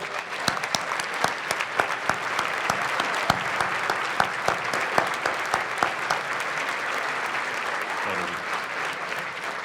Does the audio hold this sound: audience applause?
yes